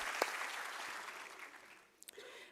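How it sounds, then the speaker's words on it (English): Applause for graduates at a University of South Africa graduation ceremony: a faint, distant wash of clapping from a crowd that fades away, with a couple of sharper knocks near the end. "Can we give them a round of applause?"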